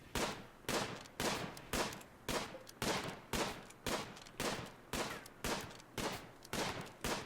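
Gunfire from the video game Rimworld: about a dozen evenly spaced shots, one roughly every half second, each with a short decaying tail, fairly quiet with no other sound between them.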